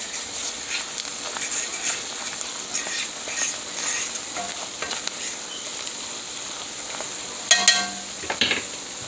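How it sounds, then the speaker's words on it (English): Flour gravy being stirred in a hot frying pan for smothered cube steaks, a steady sizzle with soft scraping strokes and a few louder clacks of the spoon near the end, with no talking. "Stir it up."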